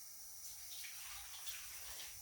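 Water pours steadily into a measuring cup while six ounces are measured out to prepare ceremonial-grade cacao, a soft continuous splashing trickle heard on its own.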